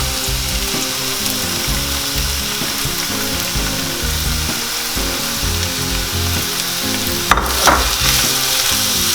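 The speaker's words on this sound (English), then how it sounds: "Our oil is hot, and to this I'll add in my onions." Onions sizzling in about two tablespoons of hot white oil in a pan, with a loud continuous fry and repeated scraping stirs, plus a brief sharp clatter near the end.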